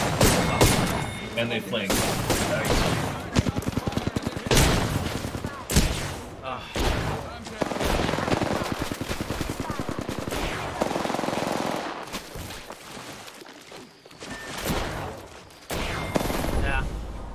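Rapid automatic gunfire and shotgun blasts in a battle-royale shooter match, loud, dense bursts packed almost without pause, while players call out to each other over the shooting.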